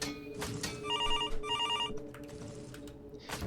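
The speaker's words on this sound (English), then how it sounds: "the kitchen phone began to ring" A kitchen phone rings in two short bursts of bright trilling bell tones, loud and close, with a quiet room hum running beneath and no talk.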